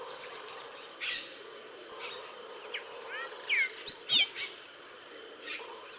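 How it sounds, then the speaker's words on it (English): Tropical mockingbird singing in Venezuelan habitat: scattered short whistled phrases and chirps, a few louder notes near the end, over a steady background of insect hiss and other distant birds. "The tropical mockingbird."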